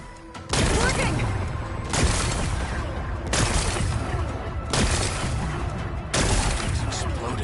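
Rocks blasted apart by explosions in Horizon Forbidden West to expose a power cell, five loud bursts at roughly 1.4-second intervals, each a sharp crack followed by crumbling debris.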